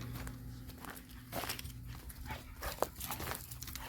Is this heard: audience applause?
no